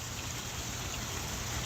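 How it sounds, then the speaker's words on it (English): Steady outdoor rain falling on the ground during a walk through a city street, a continuous even hiss with low rumble and no voices, holding constant throughout. "Tonight we're just getting through this rain"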